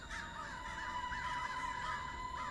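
A crow caws repeatedly in a steady run of harsh calls, moderately near, set against a constant tonal drone as an eerie horror-story effect, with no voices.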